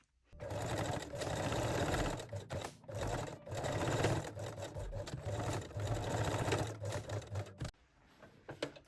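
A sewing machine runs a straight stitch along the side seams of fold-over-elastic underwear in close, rapid mechanical bursts, pausing briefly between runs before stopping near the end.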